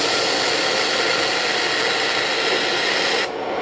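Denaliweld Jet2000 laser welder welding aluminum with argon shielding gas, a loud steady hiss and roar running nearly the whole clip before cutting out near the end.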